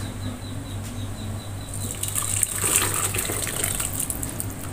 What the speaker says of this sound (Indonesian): Kemudian kita masukkan cairan yang tadi kita masak ya.